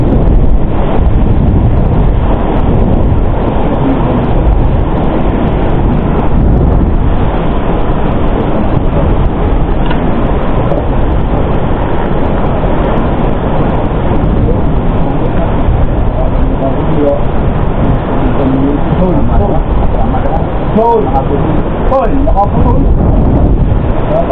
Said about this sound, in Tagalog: Kalmado nga rin ito, boss. Mahangin lang.